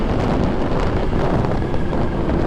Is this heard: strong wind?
yes